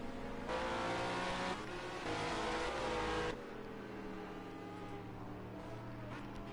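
A GT series race car lapping Brands Hatch, its engine loud and close for a few seconds with a high revving roar, then easing back to a steadier, more distant drone; no talking.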